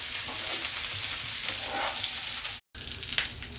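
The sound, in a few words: cashew nuts frying in pan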